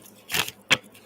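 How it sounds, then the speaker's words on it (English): A deck of tarot cards is shuffled by hand, producing two short, crisp papery bursts close by, a longer one followed by a quicker one, with quiet between them. "I'm gonna give these a good shuffle."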